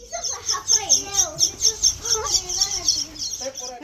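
Small chicks peep in a quick, steady rhythm of high chirps, close by, with voices murmuring underneath.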